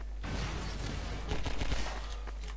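Rapid gunfire crackles through a Half-Life 2 co-op firefight in Synergy, a dense fusillade of overlapping shots with a slightly louder flurry midway over a low rumbling bed.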